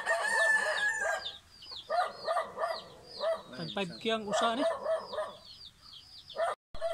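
A four-year-old gamecock crows near and loud, several crows in a row among clucking fowl, with someone talking over and between the calls.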